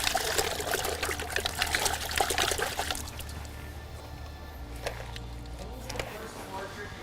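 Water splashes and trickles as it is poured for a paint wash, a bright continuous stream for about three seconds that then thins to scattered drips.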